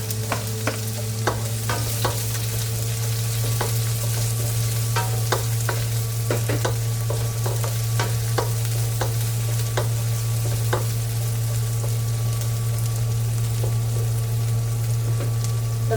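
Onions sizzle steadily in a pan while being stirred, a constant loud frying hiss broken by repeated scraping and clinking strokes of the spoon against the pan.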